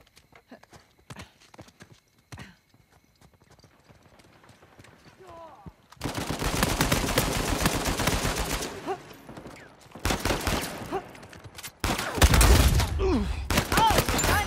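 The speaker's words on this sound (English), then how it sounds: "Should probably just follow the gunfire." Gunfire in Uncharted 4: A Thief's End, heard as loud, dense bursts of shots and action noise in the second half, after a quieter stretch with horse hooves clip-clopping.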